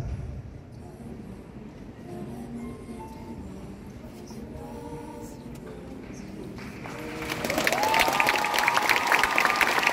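An audience at a cosplay show performance on a Japan Expo Paris stage applauds, steady crowd clapping and noise that swells louder in the final seconds.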